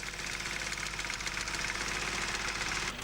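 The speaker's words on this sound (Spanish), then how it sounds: "La máquina de dallar, más rápida y descansada, permite reducir el número de horas a dedicar a la hierba en cada jornada." A motorized mowing machine cutting a hay meadow runs steadily, a close, loud engine drone with rapid knocking pulses and a rattly mechanical texture that cuts off near the end.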